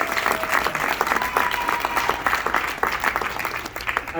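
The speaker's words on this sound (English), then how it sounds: "Please give him a rousing round of applause." A crowd at a book signing event in East Norriton, Pennsylvania claps steadily, with fairly loud, lively applause with some individual sharp claps standing out across the whole stretch.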